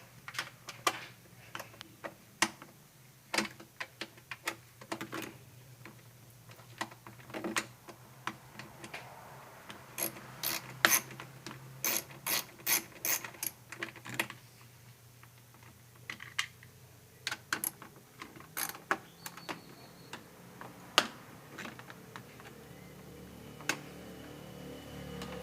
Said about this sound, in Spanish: Hay que quitar los dos tornillos.